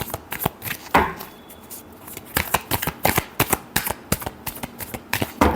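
Tarot cards are shuffled by hand in a rapid series of crisp riffling bursts and slaps, quiet and close, with an uneven rhythm across several seconds.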